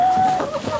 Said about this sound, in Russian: Посмотрите, какие шикарные молодки выросли.